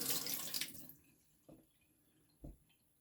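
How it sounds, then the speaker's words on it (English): Running water rinses abrasive slurry off the blade of a restored Puma 22 knife after honing on a 5K stone. A loud gush of flowing water fills the first second, then fades to quieter trickles with two brief splashes. "So I'm going to wash off the slurry off the blade as well."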